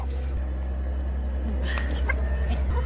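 Chickens cluck in a backyard chicken coop over a steady low hum, with a few short close clucks and calls near the end.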